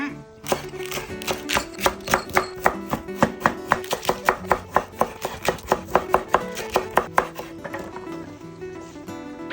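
A knife chops Chinese kale on a cutting board in a home kitchen, about two dozen quick, crisp strokes in a steady close rhythm, with no one talking.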